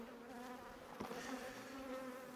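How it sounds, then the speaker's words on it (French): Honeybees buzz close by around a beekeeper's veil, a steady faint droning hum with wings rising and falling as they circle. "15 abeilles qui me tournent autour, là, qui tapent le voile"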